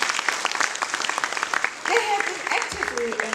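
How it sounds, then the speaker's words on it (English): Audience at a school programme launch applauds steadily, dense clapping throughout, with a brief whistle-like tone and a voice breaking in near the end. "give them a round of applause?"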